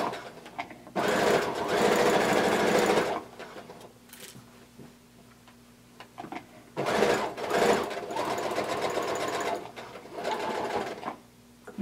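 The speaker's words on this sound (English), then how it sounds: "we're going to sew down the sides till about 5/8 of an inch past our pocket" A sewing machine stitches down the sides of a blanket coat, its motor whirring in three separate runs of a couple of seconds each, with quiet pauses between them.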